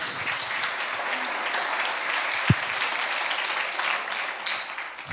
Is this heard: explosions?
no